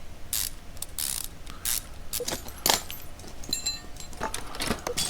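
A ratchet clicks away in Car Mechanic Simulator 2015 while rear suspension parts are bolted onto a car, with quick bursts of metallic clicking and clanks of parts over a faint background hum.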